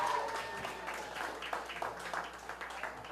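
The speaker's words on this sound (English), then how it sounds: "I want to give a big round of applause for the Billy Goats and the Chi-Town Red Hots who played earlier" Audience applause for two bands at a Chicago School of Rock senior show, with scattered claps and a few cheers that fade over a few seconds. A faint voice sits underneath.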